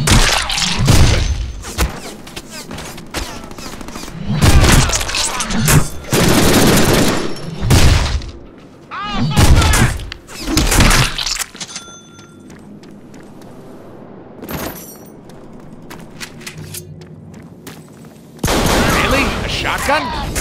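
Loud shotgun blasts and bursts of gunfire from a Deadpool video game come in heavy clusters, with quieter gaps between them. Talk runs alongside the shooting.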